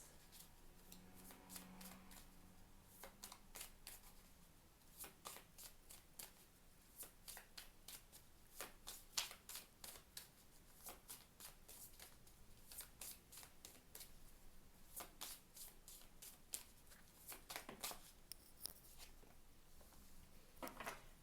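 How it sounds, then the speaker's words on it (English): A deck of tarot cards is shuffled by hand in quiet, repeated riffling bursts. The shuffles are close and soft, with brief pauses between them, and a faint voice can be heard at the start. "I started shuffling, so I'm just going to shuffle out the last one"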